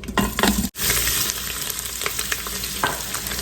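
Sausage sautés in an Instant Pot, crackling loudly and continuously up close, with repeated scraping stir strokes and one brief pause early on.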